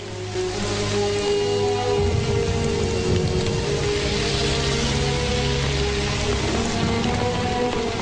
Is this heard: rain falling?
yes